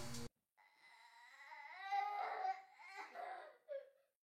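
A child cries as a horror-story sound effect, a rising, wavering wail with sobbing breaks that swells and fades, clear and close after a short burst at the start.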